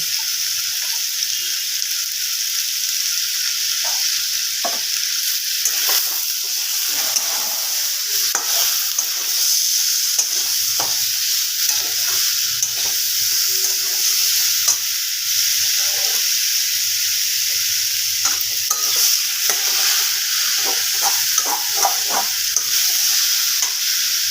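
Young jackfruit and potato fry with turmeric and salt in a pan, giving a steady, close sizzle broken by frequent stirring scrapes and clatter, with no talking.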